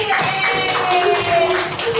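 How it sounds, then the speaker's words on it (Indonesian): Elementary students in a classroom clap their hands in quick, brisk bursts filling the moment, with faint tones and a little background chatter under the claps. "Tepuk tangan dong buat kalian."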